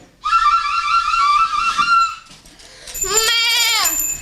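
A duda bagpipe plays loud, sustained reedy tones in two phrases during a Ukrainian Christmas carol goat performance at the Horishni Plavni mayor's home, the second phrase sliding up and down in pitch.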